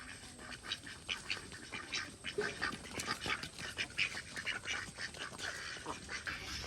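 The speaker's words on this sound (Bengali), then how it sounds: "দেখো টোকো দেখো কিরকম হাঁসগুলোকে কিরকম মারছে পালাচ্ছে" Ducks quack repeatedly in an outdoor village garden, a busy, irregular run of calls with some scuffling as they are chased and flee, fairly close and moderately loud.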